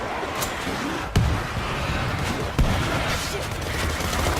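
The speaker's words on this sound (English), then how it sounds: "Throwing a grenade." A grenade blast and gunfire in the World War Z video game, heard as a dense, loud stream of shooting with two sharp impacts about one and a half seconds apart.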